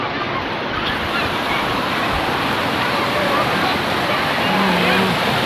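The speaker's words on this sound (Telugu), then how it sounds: "మంగంపేట వాటర్ ఫాల్స్ ఎడ్జ్లో ఉన్నాం మనం." Rushing water at the edge of Mangampeta waterfall, a steady broadband roar that stays continuous and loud for the whole stretch, with no clear voices over it.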